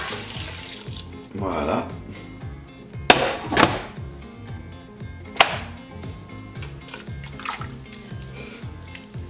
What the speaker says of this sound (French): maintenant, je rajoute mon bouillon de légumes chaud.